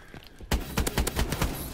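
Gunfire in a gun-game round of a video game: a short burst of sharp, rapid shots starts abruptly after a brief quieter moment, then continues in a quick, fairly regular rhythm close up.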